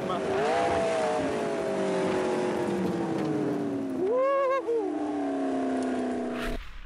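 A McLaren 650S screams along a race track at around 300 km/h, a loud sustained engine note that sweeps down slowly, jumps sharply with a shift midway and keeps droning close by.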